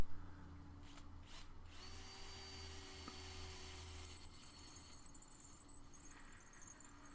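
A drill grinds steadily into stainless steel, a strained mechanical whine with a low motor hum underneath, ending with a brief rattle.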